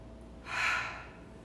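A single breath is drawn in or pushed out during a kundalini yoga breathing exercise, a soft airy rush that swells and fades over about half a second, close and alone.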